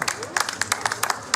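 An audience claps at a family show, with brisk, uneven handclaps close by through the short moment.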